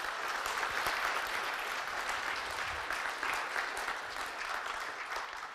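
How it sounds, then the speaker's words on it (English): Audience applause at the close of a conference talk on building a custom .NET garbage collector, a steady, dense wash of clapping from a full room that holds for several seconds and eases slightly toward the end. "Applause, please."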